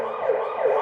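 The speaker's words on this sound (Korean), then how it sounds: "구급차 앰뷸런스 소리도 저희가 한번 비교해 보겠습니다" Loud, close ambulance siren sweeping up and down in a repeating wail, heard alone.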